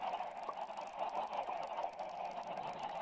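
A flock of chickens in the Minecraft video game clucks quietly and continuously, a soft, steady chatter with no talk over it.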